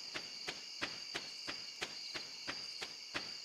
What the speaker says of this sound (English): I like the nighttime cricket sounds better than like the flies buzzing around during the day.